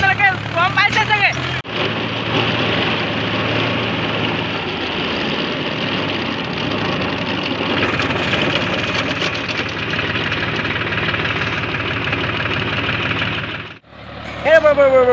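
A Shaktiman tractor engine runs steadily and loudly up close, a dense rough drone with a knocking edge that holds for about twelve seconds, with brief voices at the start and end.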